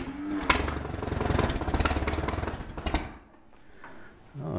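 An Allis-Chalmers tractor engine cranks in a fast, rhythmic chug for a few seconds without catching. The cranking then cuts out, leaving a quieter lull before more noise begins.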